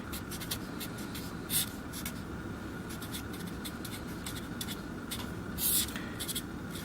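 Marker or chalk writing on a board during a math lesson on the quadratic formula, steady scratching strokes in short bursts with two louder squeaks, over a constant room hum.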